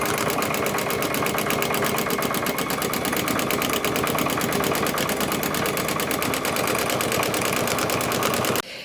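A sewing machine runs fast and continuously while thread painting a greeting card, its needle hammering in a rapid, even rattle up close for several seconds before stopping abruptly.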